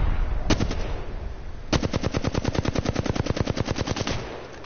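Rapid automatic gunfire in a competitive battle royale video game tournament: a short burst, a pause, then a long sustained stream of evenly spaced loud shots lasting over two seconds before stopping, with no talk over it.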